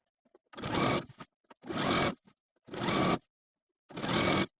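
A sewing machine edge-stitches the hem of a blouse in four short bursts, each under a second long, with brief quiet pauses between them. The stitching is close and fairly quiet, with no talking.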